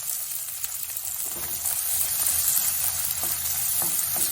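Chopped onions sizzle steadily in hot oil for okra poriyal, a loud crackling hiss that swells slightly as they settle into the pan, with no talking.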